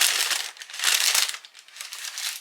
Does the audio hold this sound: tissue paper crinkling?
yes